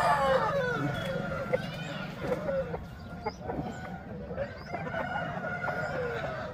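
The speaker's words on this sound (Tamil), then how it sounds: "இங்கே மூணாம்பள்ளி வந்தீங்கன்னா அதிகமான சேவல்கள் விற்பனைக்கு இருக்குது" Roosters crowing and hens clucking at a Sunday rooster market in Moonampalli, several birds calling over one another in a busy outdoor crowd while someone talks throughout.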